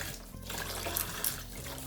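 Tap water runs steadily into a sink while acrylic pouring paint tools are rinsed, a continuous close splashing flow with no talking.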